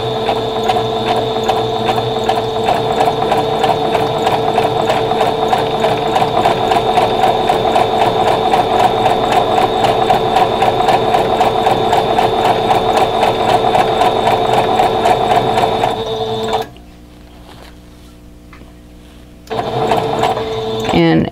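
Sewing machine zigzag stitching pieces of batting together at 3.5 width and 2.0 length, a fast steady mechanical whir and rapid needle clatter close up, pausing briefly before starting again.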